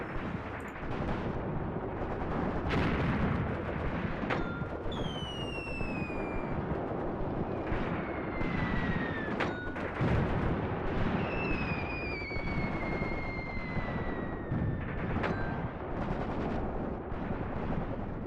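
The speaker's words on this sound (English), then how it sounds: "I'm going to call artillery support on this location. High explosives." A World War II artillery barrage of high explosives in Graviteam Tactics: Mius Front, heard as repeated distant thuds and crumps at irregular intervals under a steady battlefield rumble, with whistling shells descending in pitch overhead.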